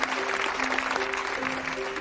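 An audience claps steadily to welcome a woman onto the stage at the opening of a chef competition, dense applause mixed with a faint steady tone in the background.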